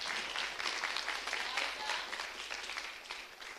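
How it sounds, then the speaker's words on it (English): Loud, sustained applause from an audience at a European Parliament event where girls spoke, with dense clapping filling the whole stretch and a faint murmur of voices beneath. "Give yourself a round of applause"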